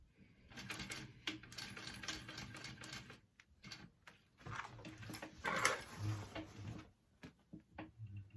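A sewing machine stitches a square pattern through vinyl for a tote bag, sounding as quiet, intermittent mechanical rattling bursts with short pauses between runs and a few handling clunks.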